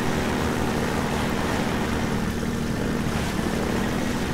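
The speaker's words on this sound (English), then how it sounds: "there's still a helicopter out there chasing me around somewhere" Helicopter in the video game Half-Life 2 VR, a steady droning rotor and engine rumble that holds at an even, fairly loud level throughout with no talk over it.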